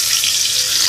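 Garlic fries in hot oil left from frying shrimp, giving a steady, loud, hissing sizzle close by with no pauses.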